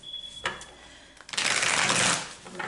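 A deck of tarot cards is shuffled by hand, with a brief riffle at first, then a sustained, dense papery flutter of cards close by in a quiet room.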